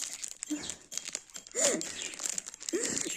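Plastic wrapping on a Fenerbahçe trading card pack crinkles and rustles up close in several short bursts as fingers work at opening it.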